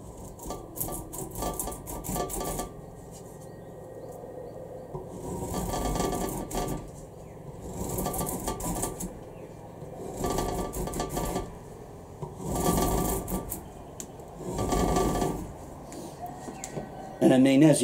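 A Heritage MK5 BSI khukuri's recurve section drawn like a draw knife across pine, raising curls in repeated rasping strokes of a second or two each, close and fairly loud with short pauses between them.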